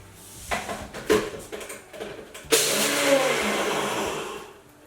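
A few short bursts of whirring give way to a sustained loud grinding whir of a small blender that runs for a couple of seconds, then stops.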